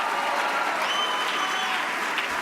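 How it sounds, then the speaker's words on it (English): An audience at an awards gala applauds steadily, a dense wash of clapping from a large crowd filling the room without pause. "Give them a round of applause."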